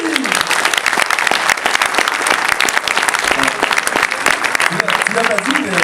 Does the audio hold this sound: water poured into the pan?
no